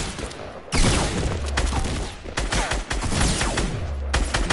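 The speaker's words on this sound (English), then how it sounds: "Use that shotgun!" Rapid gunfire bursts from a Fortnite Battle Royale match, loud and close, with several sharp shots and crackling volleys clustered across a few seconds and no talk over them.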